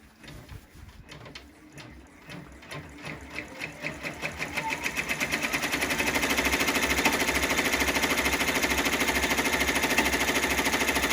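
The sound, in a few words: embroidery machine stitching outline of appliqué on t-shirt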